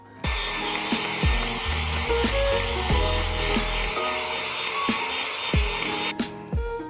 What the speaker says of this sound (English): I'm now going to use the drill and just break those areas up.